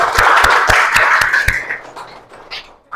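A classroom of students claps in a lesson: several distinct sharp claps in a loose rhythm, then trailing off into quiet room noise.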